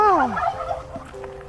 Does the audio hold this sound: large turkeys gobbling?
yes